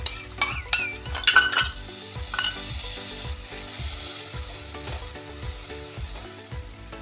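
Spice paste for a banana-flower muithya dish being stirred and fried in a pan, a utensil scraping in a steady repeated rhythm with metallic clinks, close and fairly loud.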